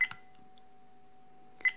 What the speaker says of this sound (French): toujours ce fameux bip qui alerte que l'enregistrement est arrêté